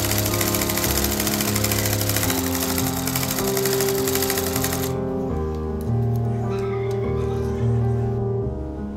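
A sewing machine stitches a baby frock, running steadily with a fast mechanical whir and rhythmic clatter that shifts pitch midway, then carries on under a quieter hum.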